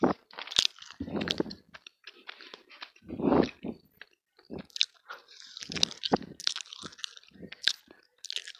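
Close-up ASMR eating of pizza and fries, a series of wet bites, crunches and chewing smacks in irregular bursts separated by brief near-silent gaps, with no talk.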